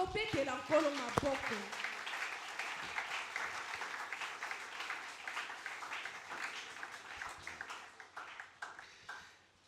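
A church congregation applauds together during a French-language sermon, a dense, steady wash of clapping that starts with some voices mixed in and gradually thins and fades toward the end.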